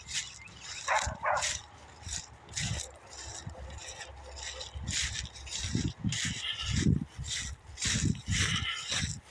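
A dog in the woods barks and yips in scattered bursts, fairly faint and somewhat distant, with rustling and scraping between the barks.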